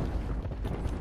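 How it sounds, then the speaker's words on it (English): Rockets from an airstrike in the video game Apex Legends detonate close by as a loud, rumbling low boom that fills the whole second. "I turn around to see one of the rockets from the airstrike just in my face"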